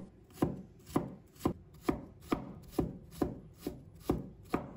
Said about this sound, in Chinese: 再把它切成细丝， 然后切成小丁。